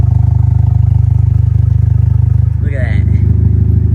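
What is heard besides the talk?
Ford Fusion engine with rigged exhaust, no muffler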